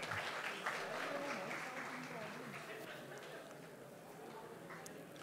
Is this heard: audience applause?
yes